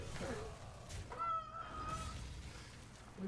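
A pet cat meows once in a short, drawn-out rising call, faint and indoors, over a low background hum with no other prominent sounds.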